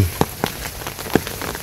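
Light drizzle falls in a Bangladeshi village during the rainy season: a few scattered drops tap sharply and close by over a soft, steady wash of rain, with no voices.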